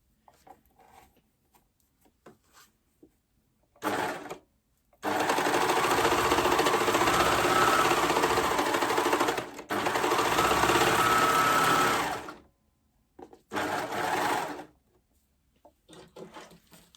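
A sewing machine stitches the bottom band of a Rockford Raglan top in several bursts, one long run of fast, steady whirring broken by brief pauses, with quiet handling sounds between runs.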